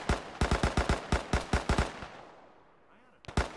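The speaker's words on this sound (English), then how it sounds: "Where the hell am I getting shot from?" Rapid automatic gunfire from the video game Arma 3, a loud close burst of about a dozen evenly spaced shots, a quieter pause, then two more sharp shots at the end.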